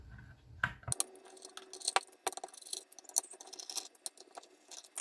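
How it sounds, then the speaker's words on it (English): Small screws being backed out of the back panel of an Apogee Duet audio interface, heard as a string of faint, close, irregular clicks and light metallic ticks with no talking. "You can unscrew this right away."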